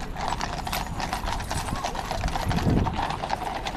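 Horses' hooves clip-clop steadily on a city street near Trafalgar Square, a brisk continuous rhythm over busy traffic and crowd noise, swelling briefly louder near the end.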